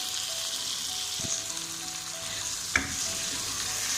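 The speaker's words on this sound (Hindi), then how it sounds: "अब इसमें हमने टमाटर डालने हैं। टमाटर के साथ ही हम मसाला डालेंगे" Chopped tomatoes and spices sizzle loudly in a hot pan as a spoon stirs them. Two distinct scraping clanks stand out against the continuous close frying hiss.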